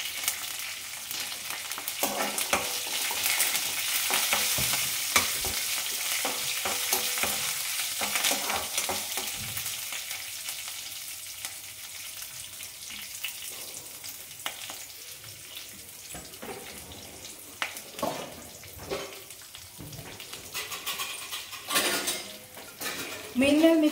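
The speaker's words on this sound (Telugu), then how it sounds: "సో నేను ఈ కారం కూడా వేసేస్తాను" A pan tempering with curry leaves sizzles and fries steadily as chili powder goes in, with a spoon scraping and clinking against the metal throughout, the frying loudest early and thinning toward the end.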